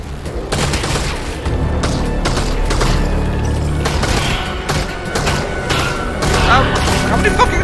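Rapid gunshots from Half-Life: Alyx crack in dense, steady bursts over a constant rumble of game music, with a player's voice cutting in over the gunfire.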